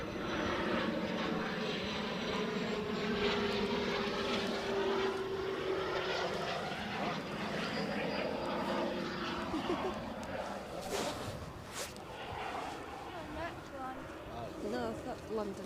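A business jet at Edinburgh Airport drones steadily at a distance, its engine tone shifting slowly over fifteen seconds beneath ongoing livestream commentary.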